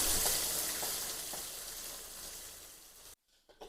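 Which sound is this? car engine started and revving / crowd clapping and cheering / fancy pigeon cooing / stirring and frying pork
stirring and frying pork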